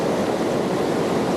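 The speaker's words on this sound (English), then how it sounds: "So water's hitting the rock, forcing its way around the rock coming downstream" White water river rushing around a large rock, a constant broadband roar of churning water, close and loud with no breaks or voices.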